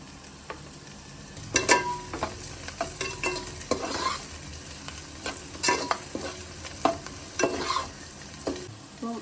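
Onions sauté with rock salt in a pan while a utensil stirs and scrapes in irregular clusters of knocks over a quiet, low sizzle, close and moderately loud.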